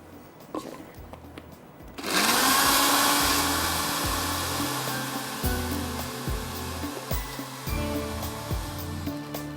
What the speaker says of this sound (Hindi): तो अभी मैं इसको चला देती हूँ ब्लेंडर को यहाँ पर।